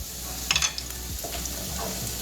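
Garlic, onion and tomatoes sizzle softly in a pan, with a few light clinks from stirring near the start.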